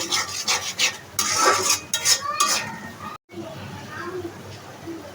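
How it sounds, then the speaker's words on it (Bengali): A spice paste of ground ginger, ground cumin and salt stirred and fried in a pan for prawn curry: close, loud, irregular scraping strokes with a light sizzle, a voice heard at times, and one brief pause. "এখন আমি সবগুলি মশলাকে ভালোভাবে নেড়ে চিড়ে বেশ কিছুক্ষণ কষিয়ে নেব"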